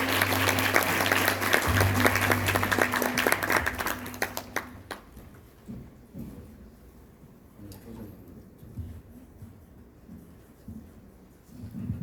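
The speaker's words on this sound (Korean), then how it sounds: "여러분 박수 한번 부탁드리겠습니다" An audience at an HR forum applauds a speaker for about five seconds, brisk and full, then the clapping stops abruptly, leaving a quiet room with faint shuffles and a low hum.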